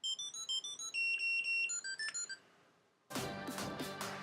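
Original MYNT Bluetooth tracker ringing its alert: a rapid series of bright, high electronic beeping melody notes, fairly loud and close, ending after about two seconds before a burst of handling noise.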